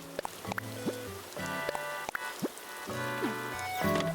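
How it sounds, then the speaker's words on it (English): Rain falls in Animal Crossing: New Horizons on the Switch 2 as a soft, quiet patter, with sparse droplet ticks and faint game tones sounding over it, no voices. "It's raining."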